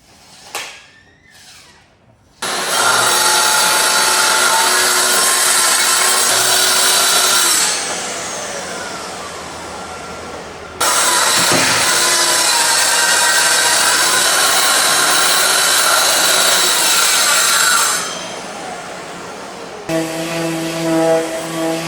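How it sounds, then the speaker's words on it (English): A hand saw cuts rough-cut wood boards to length, steady loud rasping strokes running in two long bursts with a brief pause between, close by and with no talk. "I have to cut them to fit the space. So I'll do that now with my trusty saw."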